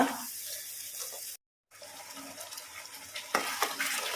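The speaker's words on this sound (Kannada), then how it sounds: "ನೋಡಿ ಮಸಾಲೆ ಒಳ್ಳೆ ಫ್ರೈ ಆಗ್ತಾ ಇದೆ" Ground masala paste fries in a pan with a steady hiss and scraping stirs, broken by a brief silent gap before the sizzle resumes with a few louder clatters near the end.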